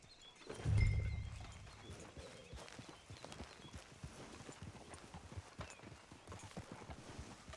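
Steady hoofbeats of a horse in the video game Red Dead Redemption 2 clip-clop along at a walking pace, with a brief louder thump near the start, low and moderately close.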